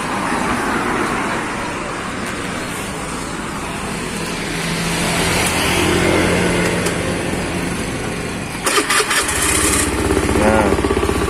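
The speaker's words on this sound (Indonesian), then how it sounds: "Oke, untuk suara mesinnya halus." A Honda Beat FI motorcycle, just reassembled after a rough-starter repair and engine teardown, runs with a steady, close, smooth engine drone, with some faint voices and clatter toward the end.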